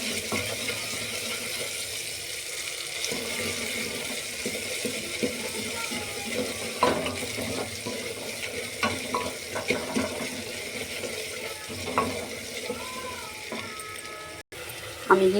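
Ginger garlic paste frying in a pan while being stirred, a steady close sizzle with scraping and clinking of the spoon against the pan, no voices.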